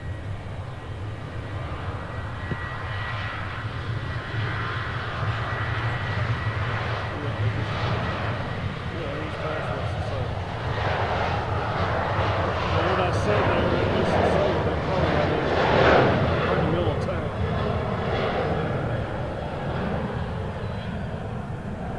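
Airliner arriving from Dulles at Nashville International Airport, a steady loud jet engine roar that swells slowly and peaks near the end, with people talking over it throughout.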